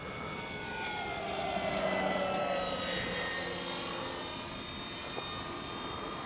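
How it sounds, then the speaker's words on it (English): An FMS 1800mm Ranger RC plane flies overhead on its maiden flight, its electric motor a steady droning whine that swells louder and shifts pitch as it passes, then eases off as it moves away. "Great flying plane."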